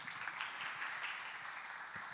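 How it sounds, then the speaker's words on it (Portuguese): Faint, soft applause from a small church gathering, even and continuous for a couple of seconds, thanking a man named Sérgio. "Palmas para o Sérgio, pessoal."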